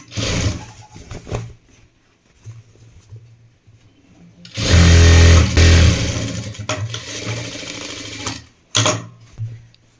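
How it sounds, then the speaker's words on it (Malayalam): A sewing machine stitches a folded piece of uniform trousers. It runs in short, close bursts of loud mechanical whirring, with quiet pauses between runs. "ഇനി അടുത്ത പീസും ഇതേപോലെ മടക്കി തയ്ക്കുക."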